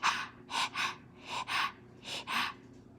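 A reader imitating a character's mouth-breathing pants during a read-aloud, about six or seven breathy huffs in an uneven rhythm, close and fairly quiet.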